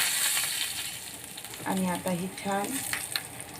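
Asafoetida, red chilli and curry leaves crackle and sizzle in hot oil as a tempering, with a steady fry under a voice speaking midway.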